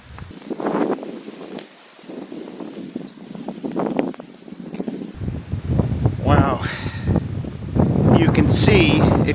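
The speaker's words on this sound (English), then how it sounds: "See if you'll hear me over the wind noise." Wind rushes across the Bullhead, LeConte and Trillium Gap mountain trail, producing rumbling gusts against the microphone that grow stronger toward the end.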